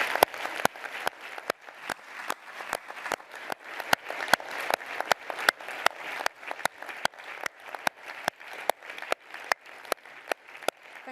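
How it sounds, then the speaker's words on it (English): A conference audience gives a round of applause to speakers at an annual-day session, a fairly faint, quick, uneven series of claps continuing steadily for several seconds with no talk over it. "So I'd like to give them all a big round of applause"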